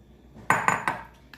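A metal spoon taps and scrapes against a bowl three times in quick succession, then once more faintly, while mixed yogurt and sugar for thandai shrikhand is transferred into another bowl.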